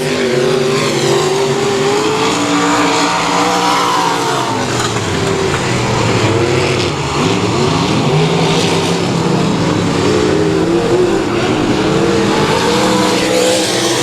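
Modified race cars lap South Texas Speedway in a dense, unbroken engine roar, with multiple cars revving and passing close by, loud throughout and with no talk over it.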